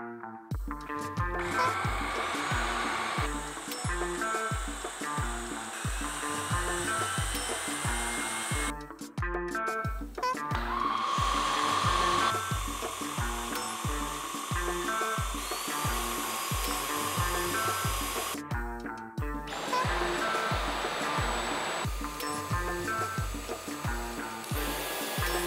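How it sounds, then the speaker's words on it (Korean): Cordless vacuum cleaners (Dyson V10, LG A9, Samsung Jet) whir in several runs, the motor pitch shifting between level-one and turbo settings and cutting out briefly between runs. "각각의 청소기를 1단계와 터보 모드로 나눠서 실험해요."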